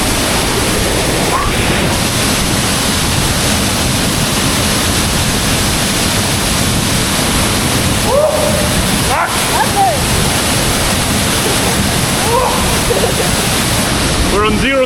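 Big waterfall pouring through a hole into a dark cave in the Colombian rainforest, a loud unbroken roar of rushing water filling the space, with faint voices now and then.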